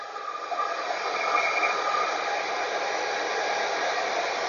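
A Shaper Origin handheld CNC router spindle runs with a steady, loud, airy whine and hiss, alone and unbroken throughout.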